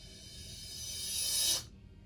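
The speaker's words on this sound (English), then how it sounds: "So I took the crash that was in the drums and I reversed it" A reversed crash cymbal from a boom bap hip hop drum part swells from a soft wash into a loud, bright rush, then cuts off abruptly at its peak, alone and close.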